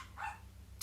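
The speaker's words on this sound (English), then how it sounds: "And the dogs are barking" Dogs bark somewhere in the distance, one faint, brief bark followed by a short yip at the end, against a low background hum.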